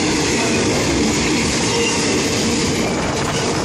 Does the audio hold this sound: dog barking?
no